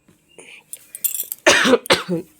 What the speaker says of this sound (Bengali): তোমাদের সঙ্গে কথা বলতে বলতে আমার কাশি হচ্ছে প্রচুর